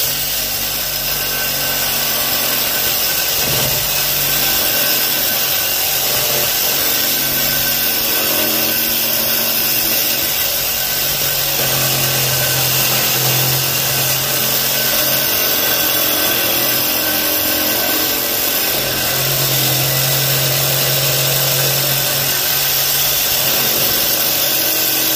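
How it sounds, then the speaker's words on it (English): A reciprocating saw blade cutting through a metal pipe, a steady, harsh buzzing rasp that lasts the whole stretch, loud and close, with slight changes in pitch as the blade bites, and no voices. "you hold the pipe and set your blade right there"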